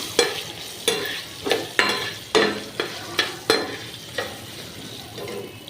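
Green chillies frying in a pan with grated mango for mango pulihora, a soft sizzle broken by regular, fairly loud stirring scrapes about every half second, no talk.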